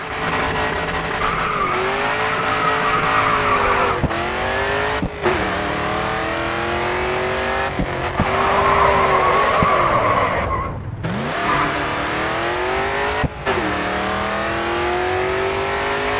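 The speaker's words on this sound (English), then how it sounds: "Next corner, let's see a drift." A race car drifting through corners in the Grid 2 racing game, with sustained tire squeals and skids over a loud revving engine that rises and falls as the throttle is lifted and reapplied, with no talk.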